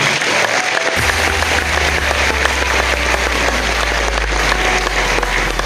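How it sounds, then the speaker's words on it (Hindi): Loud applause fills a hall at a DXN annual recognition night in Maharashtra, continuous crowd clapping with a deep low hum running underneath from about the first second on. "एक जोरदार ताली"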